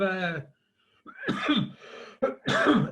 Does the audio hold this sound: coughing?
yes